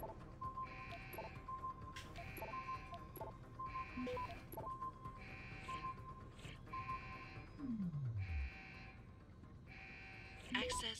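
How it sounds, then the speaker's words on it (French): An alarm buzzer sounds in the video game Deus Ex: Human Revolution. It gives about seven evenly spaced, harsh electronic bursts, and a falling tone sweeps down near the end. "On se calme, petite alarme."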